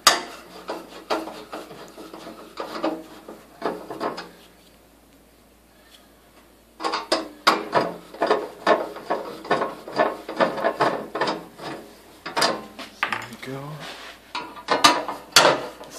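Screws being undone from a garage heater while its cable is changed, giving close bursts of clicking and rasping turns in quick succession, a quiet gap of a few seconds, then a denser run of sharp metallic ticks.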